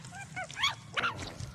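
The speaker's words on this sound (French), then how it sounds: "C'est un chien." A dog gives a few short yips and whimpering barks, fairly close, with faint background noise between them.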